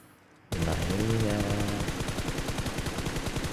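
Gunfire in the mobile battle royale PUBG Mobile: after a brief quiet start, a loud rapid automatic burst erupts and keeps rattling in a fast steady rhythm to the end, with a voice talking over it.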